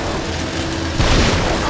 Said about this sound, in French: Oh, explosion troisième service